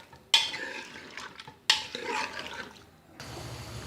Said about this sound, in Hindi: अब मैं इसके अंदर ये प्याज शामिल कर दूँगी और टमाटर भी इसके अंदर शामिल कर दूँगी, साथ सब्ज़ मिर्च भी है, और अच्छी तरह मिक्स करूँगी इसको